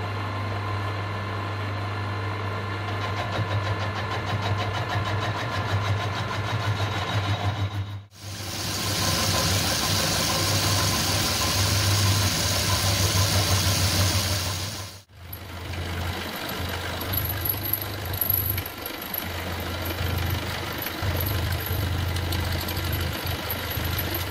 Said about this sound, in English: we can then go over to the lathe and then obviously machine the radiuses on the ends